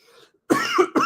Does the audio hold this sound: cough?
yes